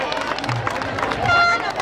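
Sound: audience applause

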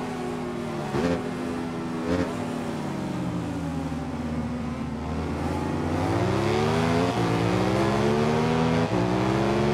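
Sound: motorcycle engine revving in video game Ride 5

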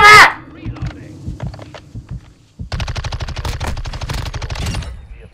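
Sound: gunfire in Call of Duty: Modern Warfare video game

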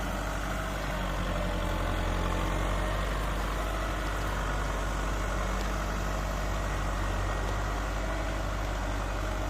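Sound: farm tractor engine running

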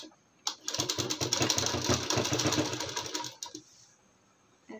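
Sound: sewing machine stitching a folded palazzo hem

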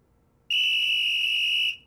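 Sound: child blowing a whistle

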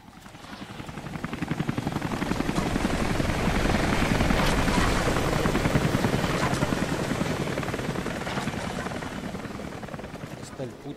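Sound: helicopter in the video game Rise of the Tomb Raider

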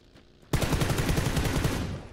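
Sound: gunshots

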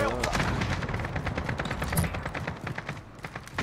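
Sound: gunfire in Modern Warfare video game

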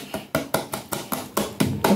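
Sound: tapping the top of baking mixture

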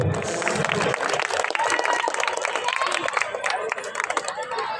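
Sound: audience applause for finalist teams at football tournament

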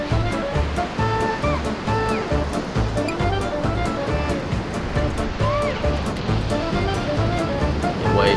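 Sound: whitewater rapids

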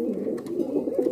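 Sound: black Bombay pigeons cooing

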